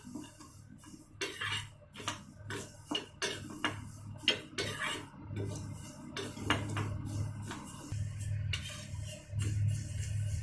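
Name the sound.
raw rice frying in ghee in a pan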